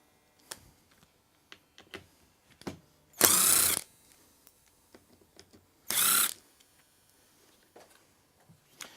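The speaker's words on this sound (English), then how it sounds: "we're going to drill our 3-inch screws in there" Two short bursts of a power drill whirring as it drives screws, separated by clicks and handling noises of tools.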